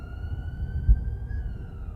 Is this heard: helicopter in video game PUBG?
no